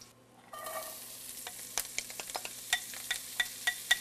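Aromatic vegetables frying in rendered pancetta fat in a pan, a steady sizzle that starts suddenly and carries sharp spoon scrapes and pops at irregular intervals.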